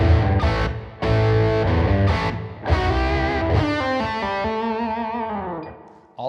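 A distorted electric guitar riff played slowly, with bent and vibrato-laden notes ringing out loud and alone in separate phrases, then a long sustained passage that fades near the end.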